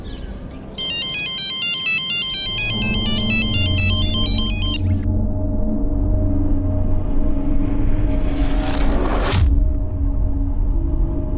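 A phone ringtone trills repeatedly for a few seconds, then stops, leaving a low rumbling background and a brief whoosh near the end.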